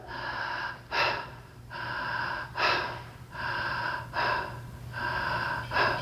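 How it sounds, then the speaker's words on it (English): A person breathing fast in and out through the mouth as a breathwork technique: quick, forceful gasping inhales and exhales in a steady, repeating rhythm, close and clear, with no talking. "So that's the inhale. Through the mouth, faster paced."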